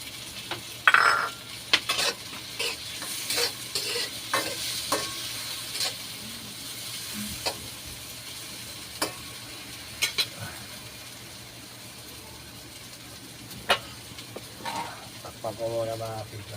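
Onion and tomato sautéing in a pan for sarciadong galunggong, with a low sizzle broken by scattered scrapes and clinks of a utensil stirring against the pan.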